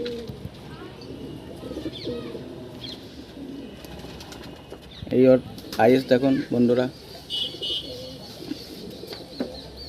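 Pigeons from a home loft collection coo in a short cluster of deep, throaty rolling calls, close by, amid ongoing conversation between men.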